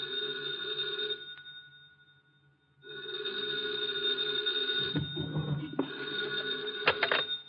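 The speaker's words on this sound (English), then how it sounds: "2 o'clock in the morning, the phone rang." A telephone bell rings in two long trilling bursts separated by a short gap, loud and close, with faint rustling and clicks near the end.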